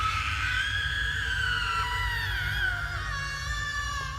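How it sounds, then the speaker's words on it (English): A ghostly woman lets out a long unearthly scream, a loud sustained wailing cry that holds for several seconds and slowly sinks in pitch, with nothing else heard around it. "In frustration and rage, her head tips back and she lets out another unearthly scream."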